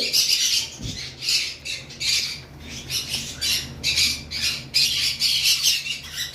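Pet birds in a breeding pair setup, including albino birds, give loud, harsh squawks in repeated bursts close by, with brief gaps between calls and no voices.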